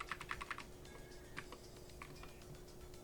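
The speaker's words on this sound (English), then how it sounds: "it sounds like my finger's having an aneurysm because of how many times I'm having to press the keys" Computer keyboard keys pressed rapidly in quick bursts of clicks, close and fairly quiet, the tapping thinning out into scattered single presses.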